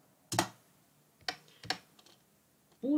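Several isolated keystrokes on a computer keyboard while entering microcontroller code, a few sharp close clicks spaced irregularly in a quiet room, followed by a voice starting at the end.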